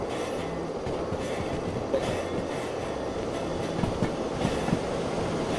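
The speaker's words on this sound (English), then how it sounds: "I'm running the train." A steam train in the video game Derail Valley rumbles steadily along with rhythmic clicking of wheels over rail joints, a continuous low mechanical drone without any talking.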